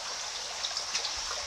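Water running steadily out through the flow-through outlet of a catfish hatchery's fry tank, a continuous soft trickling and splashing wash, close and even throughout.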